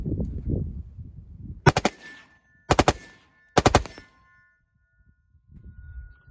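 M4 rifle firing in Modern Warfare 3 with a muzzle brake, three short sharp bursts of automatic fire spaced about a second apart, loud and close, with faint talk before and after.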